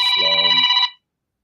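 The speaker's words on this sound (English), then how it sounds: "That's just my phone." A mobile phone rings close by in a radio studio: one loud electronic ring burst with a steady bright tone that cuts off abruptly, followed by silence.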